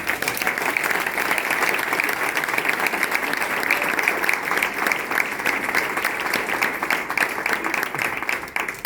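Audience clapping continuously and loudly throughout, a thick even roar of applause with no pause.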